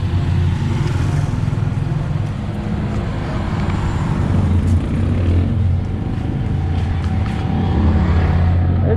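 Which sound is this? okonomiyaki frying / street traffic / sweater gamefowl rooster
street traffic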